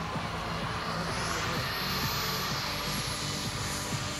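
A model jet aircraft, a Goshawk, coming in to land, heard as a continuous rushing whine of turbine noise with a high tone sweeping through it, steady and moderately loud throughout, no speech.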